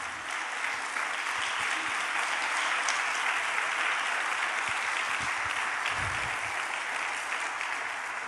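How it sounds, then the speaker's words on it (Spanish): A congregation at a church service applauds together in a loud, sustained burst of clapping that fills the room steadily from start to finish. "Dele un aplauso al Señor."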